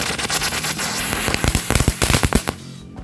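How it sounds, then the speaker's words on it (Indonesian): A lotus-flower spinning firecracker goes off, giving a hissing whoosh followed by a fast burst of sharp crackling pops that fade out near the end. "selanjutnya ini kita menyalakan mercon bunga teratai"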